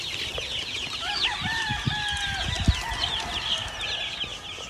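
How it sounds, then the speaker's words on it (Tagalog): Chickens on a gamefowl farm with more than 400 birds cluck steadily nearby while a rooster crows in drawn-out calls through the middle, over a busy outdoor farmyard background. "More than 400 chickens. 400 chicks more."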